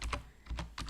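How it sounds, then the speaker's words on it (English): Computer keyboard typing in a few close, crisp keystrokes that come in short pairs, with no one speaking. "I'm going to type the link for the website"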